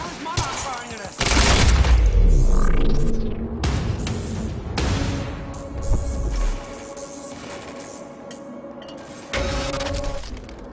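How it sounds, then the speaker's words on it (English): Soldiers open fire in Quantum Break, a loud burst of gunfire and crashing mixed with shattering glass, followed by quieter game ambience and a second burst near the end. "Why the hell is Monarch firing at us?"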